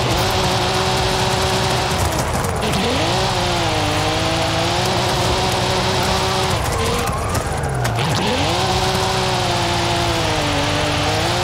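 A manual Cadillac CT4-V Blackwing with turbochargers and anti-lag in Forza Horizon 5 revs hard and steadily up close, its engine pitch dipping and climbing again between shifts, with faint tire noise underneath.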